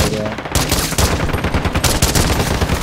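Rapid, loud M14 rifle fire in a video game, with shots close and densely packed into sustained bursts that fill the whole stretch, and some heavier reports mixed in.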